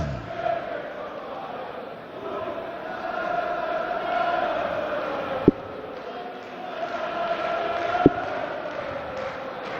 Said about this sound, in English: I wonder if the German crowd actually know what they're singing